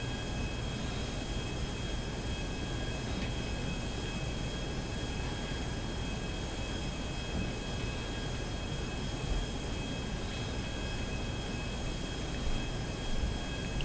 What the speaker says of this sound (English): What are we doing with this plane?